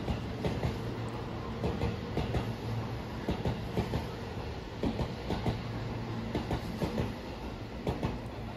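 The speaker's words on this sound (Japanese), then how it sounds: "列車は JR の魚住駅を出発しまして、次は土山に止まります。" A JR local train pulls out of Uozumi station in Japan, heard from on board as a steady rumble with repeated rhythmic wheel clicks over rail joints, with no talking.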